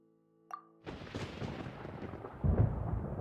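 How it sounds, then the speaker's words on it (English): Thunder during a storm in the video game Genshin Impact begins with a short sharp crack, then spreads into a low rolling rumble that swells louder near the end, with no voices. "Paimon hears thunder!"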